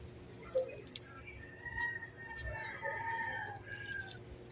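Chickens cluck and squawk nearby in short bursts, with a faint crow-like call and some background chatter.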